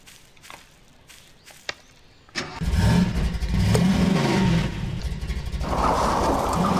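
Engine of a flying car in the video game Garry's Mod, starting with a sudden burst after a few quiet clicks, then a loud steady hum with wavering pitch that rises toward the end.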